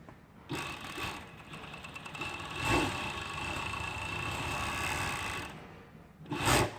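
An industrial serger, or overlock machine, sews stretch fabric with a continuous mechanical rubbing whir that runs for about five seconds, soft and close with no talk, then ends in a brief clunk.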